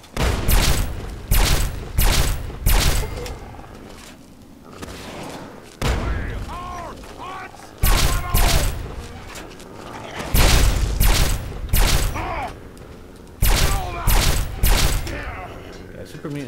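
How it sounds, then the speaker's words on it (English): A super mutant fires a rocket launcher in Fallout 3, repeated loud booming blasts and explosions in bursts of rapid impacts, with speech in between. "Somebody has a rocket launcher."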